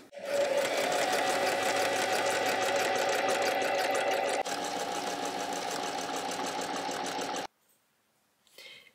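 A sewing machine stitching fabric for a pair of trousers runs in a steady, fast, loud mechanical chatter for about seven seconds, then stops abruptly with a brief faint whir near the end.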